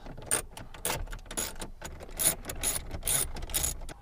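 Ratchet fitted with a long extension tightening the side bolts on a Toyota Tacoma stereo mount, producing a series of rapid, close clicking bursts in an uneven rhythm.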